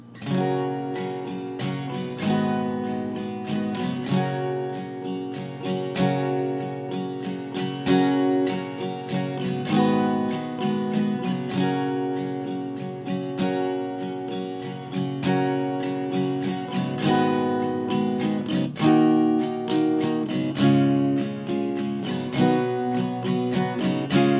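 Acoustic guitar strumming a steady progression of chords with a regular rhythmic pulse, played alone at moderate volume throughout.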